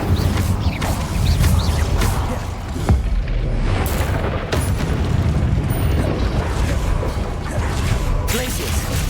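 Fire spell cast in the video game Hogwarts Legacy, mixed into dense, loud battle noise with booming impacts and crashes throughout, alongside other spell effects.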